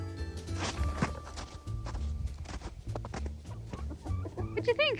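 Backyard chickens cluck and murmur close by in short irregular bursts, with scattered scratching and stepping sounds mixed in and a sharper squawk near the end.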